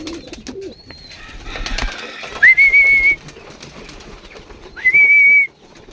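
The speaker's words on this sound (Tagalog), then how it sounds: "Sila mga kalapatids. Gutom." Hungry pigeons coo and call near the listener, with two long whistling notes standing out over soft rustling and background coos.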